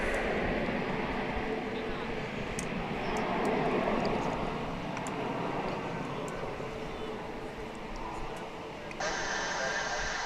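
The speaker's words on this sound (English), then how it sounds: "So the big A380 continues to literally cool its jets." An Airbus A380 jet airliner idling its engines at DFW International Airport, a loud continuous close rumble and whine that holds steady throughout, with a brief brighter hiss near the end.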